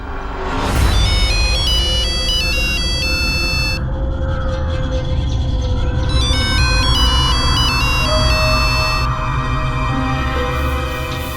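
A mobile phone ringtone plays a bright, repeating electronic melody in loud bursts, pausing briefly midway before the tune resumes over a low background hum.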